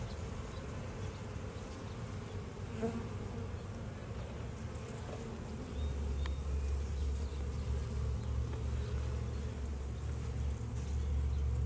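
Honeybees buzz in a steady, dense drone throughout a hive inspection, close and continuous, growing slightly louder partway through as more of the colony stirs.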